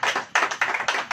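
Congregation in a Hindi-speaking church service clapping together in a quick, steady rhythm of loud, close bursts, with no talk over it.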